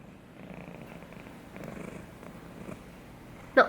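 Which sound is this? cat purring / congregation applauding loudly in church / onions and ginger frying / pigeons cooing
cat purring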